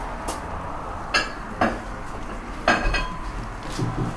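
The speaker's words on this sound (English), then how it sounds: "I'm going to bring my whisk close." A metal whisk works pap concentrate in a cooking pot, giving a few sharp clinks and scrapes against the metal spaced a second or so apart over a steady low background, with no talk.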